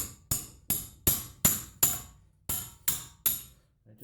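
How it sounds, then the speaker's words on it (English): A hammer strikes a socket fitted on a ball joint nut of a 2000 Dodge Ram, eight sharp metallic blows at a steady rhythm, loud and close, with brief ringing after each hit. "I just put the socket on, take the hammer"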